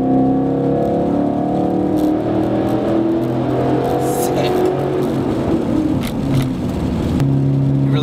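A 2011-2014 Mustang GT with a 5.0-liter V8 and Borla exhaust rumbles through a tunnel, a loud steady drone that swells and echoes off the walls, heard from inside the car.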